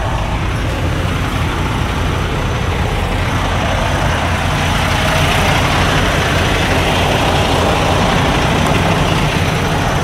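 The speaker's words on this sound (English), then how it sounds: "Right now we got the truck running." A flatbed semi truck idles at a truck stop, its diesel engine a loud, steady, unbroken rumble close by with no variation in level.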